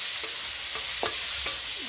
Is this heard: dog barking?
no